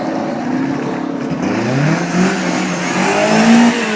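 A rally car, the 2010 Continental Rally Championship winner, roars past on flat tarmac at the Goodwood Festival of Speed, its loud engine revving and rising in pitch as it nears, with no voices over it.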